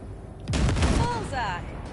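Gunfire in Cyberpunk 2077 blasts ship wrecks near a cargo ship, with a sudden loud burst of shots that rolls on for about a second while a voice speaks over the end.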